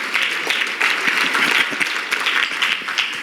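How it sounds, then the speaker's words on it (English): Guests at a WMCF gala give a sustained round of applause, a thick wash of many hands clapping in a large room, loud and even with no talk over it. "Give yourselves a big round of applause."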